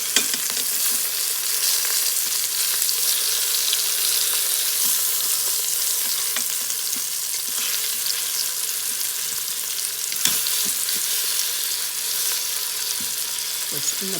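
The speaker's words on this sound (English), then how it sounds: "I'm going to go ahead and turn these oxtails over and let them cook on the other side" Oxtails fry in a pot with a steady, loud, close sizzle and crackle that runs unbroken throughout, with occasional small pops and no talking.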